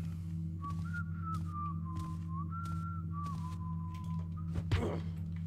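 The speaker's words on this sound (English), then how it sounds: "Stop your infernal whistling." Guard whistling a wandering tune in a Thief fan mission, a steady melodic whistle over a low droning ambient hum, ending with a brief thud near the close.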